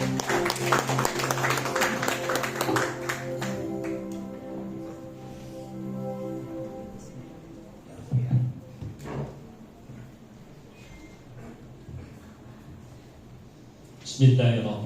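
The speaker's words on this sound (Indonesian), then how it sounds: "Tepuk tangannya." Audience applause at a book discussion event in Cilegon, Banten, rises briefly in the room after a host's introduction, soft scattered clapping mixed with talk and background music.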